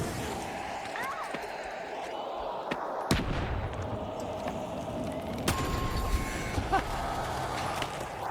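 Grenade blasts in The Finals, a few sharp bursts spaced across the clip amid game noise and scattered thuds, mid-distance and moderately loud.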